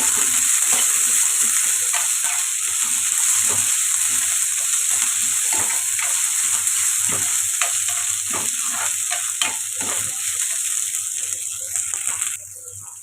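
Peas frying in a pan for matar paneer masala, a steady close sizzle with repeated scrapes and clatters of a spoon stirring throughout, ending with a brief quieter moment.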